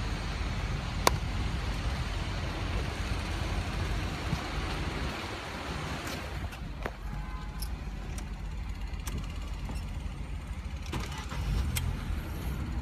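A car engine runs steadily after being started with a portable jump starter, a low continuous rumble under broadband noise, with a few sharp clicks heard along the way.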